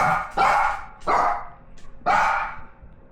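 A puppy barks three times, sharp and close, with short yappy pauses between the barks and a faint whimper in the middle.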